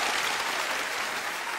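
A studio audience on a Chinese televised job-seeking show breaks into dense, sustained applause, loud and close, as an even wash of clapping with no voices standing out.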